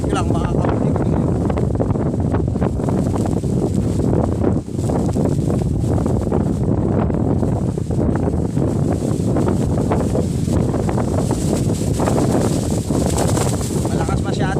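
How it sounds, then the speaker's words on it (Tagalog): Strong wind roars steadily across the microphone at a waterside spot while fishing for tilapia, a loud, constant buffeting rush that fills the whole stretch with no clear voices. "Malakas yung hangin galing dito."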